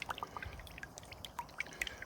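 Hot sauce drips and dribbles into melted butter in a pan, a faint, close, irregular patter of small liquid splashes with no talking.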